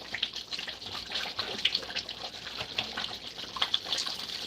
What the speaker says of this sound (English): I'm going to add some more water here.